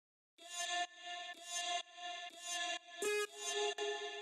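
Chopped vocal samples from an electronic music production track, arriving as five or six short sustained harmonic bursts in a steady rhythm, close and clean with no other instruments underneath.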